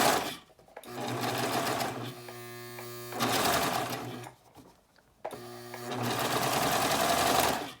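A sewing machine stitches fabric in three close, loud bursts of rapid buzzing and clatter, separated by short pauses.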